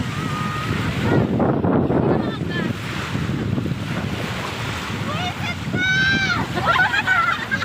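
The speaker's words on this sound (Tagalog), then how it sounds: "lalaki ng alon" Big waves roll and crash at Half Moon Beach in Dammam, Saudi Arabia, a steady loud surf wash mixed with wind buffeting the microphone, while people chatter excitedly over it throughout.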